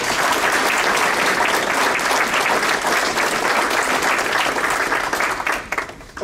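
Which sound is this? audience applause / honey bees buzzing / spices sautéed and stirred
audience applause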